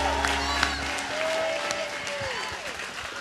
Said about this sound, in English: Come on, give God a hand clap.